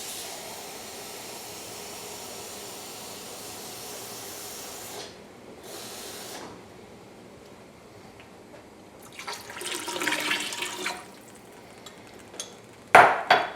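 Water poured into a cooking pot for a bouillon-based dish, a steady hissing wash broken by short pauses, swelling louder near the end with a sharp clunk.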